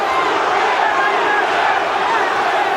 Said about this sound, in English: The crowd starts to chant again.